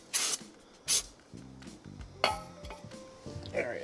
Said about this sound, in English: Sprayed some brake parts cleaner after.